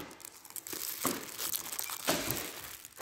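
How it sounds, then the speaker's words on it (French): Packs of window envelopes are handled on a discount store shelf, with close, intermittent plastic crinkling and rustling in several sharp bursts and no talking. "si vous êtes à la recherche d'enveloppes, alors vous avez les enveloppes ici, fenêtres"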